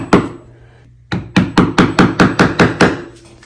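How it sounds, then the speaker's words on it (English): A single knock, a pause, then a quick run of about eight sharp hammer blows on a nail, close and evenly paced. "If she had a hammer, so she's pounding it in."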